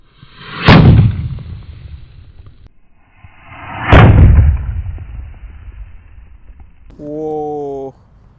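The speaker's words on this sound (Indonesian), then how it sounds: "Dan ini penutupnya ada mercon Super Cruiser. Kita hadapkan di lubang tanah ini." A Super Cruiser firecracker set in a hole in the ground goes off with two loud, sharp blasts a few seconds apart, each trailing a rumbling decay, followed by a brief voice at the end.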